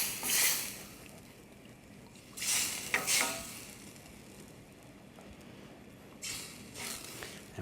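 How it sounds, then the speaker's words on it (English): Chicken stock is stirred into a hot pan for chicken relleno, making a bright sizzle with bursts of scraping and stirring that swell and fade over a low frying hiss. "And now we'll add the chicken stock. Stir that in."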